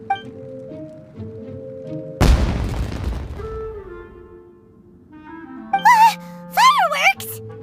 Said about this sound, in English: It sounded like fireworks.